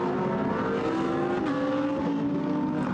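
GT race cars at Paul Ricard in a Blancpain GT Sports Club race, including leading Ferraris, roar loudly and steadily through a sequence of corners, engine pitch rising and falling, with no voices.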